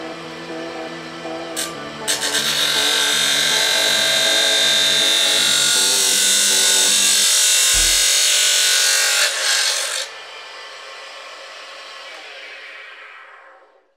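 A homemade cutting machine bites into steel profiles with a loud, sustained harsh grinding screech lasting several seconds at close range, preceded by a motor spin-up and followed by a fading whir as it winds down.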